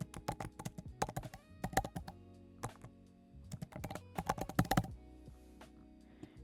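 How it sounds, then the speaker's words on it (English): Computer keyboard keys clack in quick, uneven bursts of typing with short pauses between, close and crisp, as a terminal command is entered. "if you go to the terminal and type"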